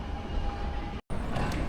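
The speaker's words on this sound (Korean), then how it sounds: "몬세라트 산악열차를 타고 정상까지 올라갑니다" Steady rumble and rolling hum of the Montserrat mountain rack railway train, heard from inside a carriage, with a brief dropout midway and faint high squeal near the end.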